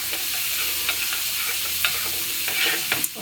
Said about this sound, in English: have the meat sizzling away